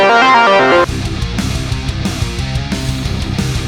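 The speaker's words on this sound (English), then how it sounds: "the 2 tracks together to hear the harmony, the melody and the third harmony" A MIDI synth melody with a harmony a third above plays as a short bright chord line, then thins into a lower, busier synth passage of repeated notes under a layer of high crackle.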